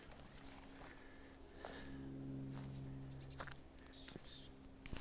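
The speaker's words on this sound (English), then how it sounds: "You can hear some Pacific Mountain chickadees." Pacific mountain chickadees call on a peaceful Southern California mountainside on a crisp autumn day: a few short, high chirps, fairly faint and distant, over a steady low background hum.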